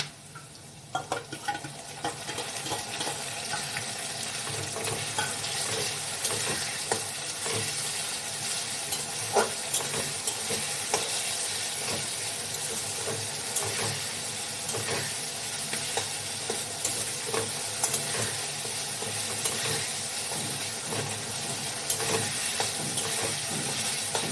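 Ginger, cumin, green chili, garlic and onion paste sautéing in a pan, a steady loud sizzle with repeated scraping stir strokes and small clinks running throughout, no voices.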